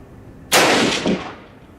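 A single loud, sharp rifle shot from a 1903 rifle firing Winchester Victory Series ammunition cracks close by, then a booming echo decays over about a second outdoors.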